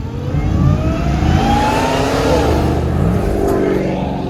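A supercharged muscle car engine revs loudly, its deep rumble layered with a high supercharger whine that rises and falls.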